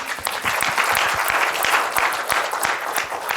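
Audience at a panel discussion on African trade gives a burst of steady applause, many hands clapping together close by and fairly loud for a few seconds.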